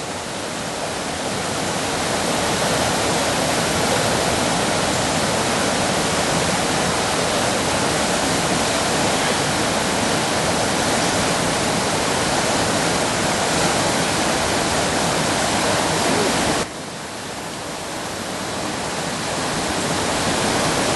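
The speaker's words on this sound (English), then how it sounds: "Plenty of water flowing." The River Eden flows strongly on a country walk near Kirkby Stephen in Cumbria, a steady, loud rush of water that continues unbroken for the whole stretch, dipping briefly near the end before swelling back.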